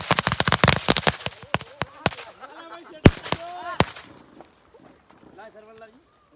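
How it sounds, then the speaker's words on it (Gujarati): Firecrackers bursting in an open field during Diwali, a rapid string of sharp loud cracks followed by a few heavier isolated bangs, then quieter pops under voices talking. "ફટાકડ ફોડવા પડે."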